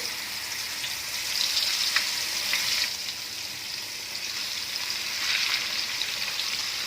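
Chicken pieces fry in hot oil for crispy gun-style fried chicken, giving a steady, close, bright sizzle that swells louder at moments, with no talking.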